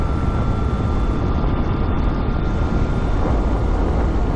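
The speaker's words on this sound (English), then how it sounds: "Now the Tracer has got its small windshield on right now, so this is the noisiest that the Tracer is gonna be." Steady, loud broadband wind roar from riding a Yamaha Tracer motorcycle on the freeway with its small windshield fitted and the helmet visor closed, a constant rushing drone with a faint engine hum and no talking.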